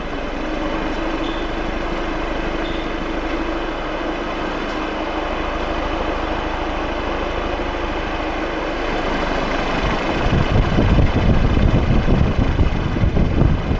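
A small wind generator turbine spins in a test airstream, producing a steady loud whooshing roar with a faint whine that grows rougher and more buffeting toward the end as the airflow increases.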